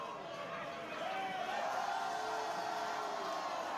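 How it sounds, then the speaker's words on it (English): A wrestling crowd at a PPW Nation independent show roars into a sustained cheer after a drop kick to the face, a broad wash of voices that swells and holds loudly, with a commentator's voice faintly underneath. "There we go, a loud pop from the crowd"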